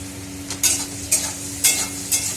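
Chopped vegetables frying in oil at home, a constant sizzle beneath four evenly spaced, sharp scraping strokes of a spatula against the pan.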